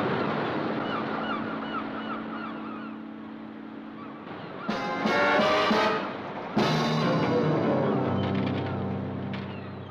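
Seabirds call near a fenced coastal sanctuary, honking and goose-like cries repeating over a low hum, joined by louder bursts of clamour midway.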